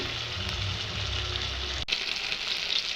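Paneer pieces coated in turmeric and salt fry in hot oil in a wok, giving a steady close hiss with a brief break near the end, no voices.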